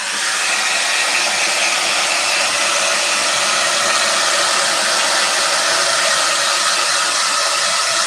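A hair dryer blows steadily to dry a freshly made quote sign, a loud, continuous broadband whoosh running unbroken for the whole stretch with no talk over it.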